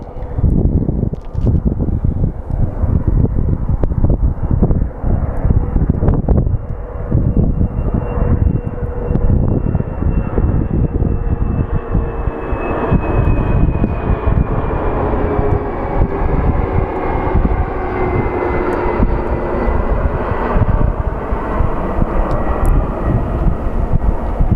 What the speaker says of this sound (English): And here comes the JSX.